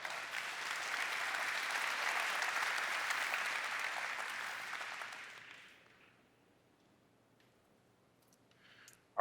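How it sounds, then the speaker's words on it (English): Audience applause at a Shopify build awards event, a dense steady patter of many hands clapping that fades away after about five seconds into near silence. "Big round of applause."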